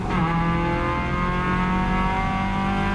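A Caterham race car sweeps past on a circuit while lapping a slower car, its engine a loud, sustained high-revving drone that holds strong throughout.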